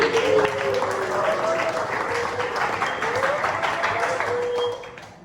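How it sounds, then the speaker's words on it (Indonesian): Classroom applause from a group of grade 10 students, steady mixed clapping for about five seconds with a few voices calling over it, fading at the end. "Tepuk tangan buat itu."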